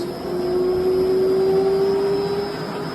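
A 10 horsepower liquid ring vacuum pump in a maple sugaring setup drones loudly and steadily with a clear, sustained tonal whine over a broad rumble, no voices.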